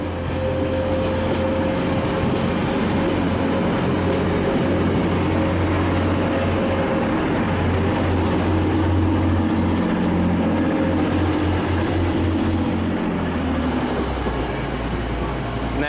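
A class 142 diesel unit on a Northern service idles and rumbles at a busy Manchester Piccadilly platform, a steady low engine drone with a faint whine and station hubbub.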